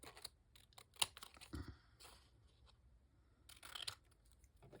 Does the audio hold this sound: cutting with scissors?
yes